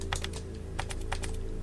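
Computer keyboard arrow keys pressed in quick clicks, a pair, then a gap, then a busier cluster of taps, close up over a steady low electrical hum.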